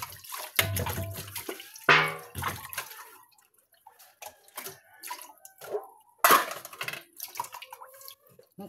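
Water poured into a bucket during hand laundry, coming in several separate splashing gushes with drips and handling clatter between them, fairly close.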